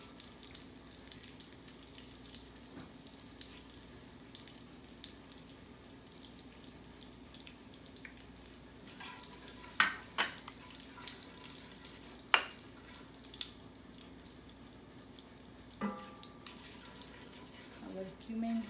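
Cumin seeds sizzle faintly as they roast in a hot pan, a steady low crackle with a few sharp clinks of stirring scattered through.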